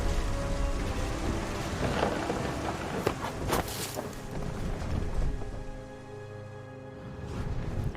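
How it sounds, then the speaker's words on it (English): Thunderstorm with rain in the video game What Remains of Edith Finch, a steady wash of rainfall with a few sharp thunder cracks and low rumbles, joined by music, with no talk. "The thunder sounded much too close and full of angry power."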